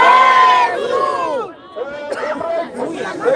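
A crowd gathered at a mall shouts and cheers loudly in a dense, close mass of voices, with calls rising and falling across the whole stretch.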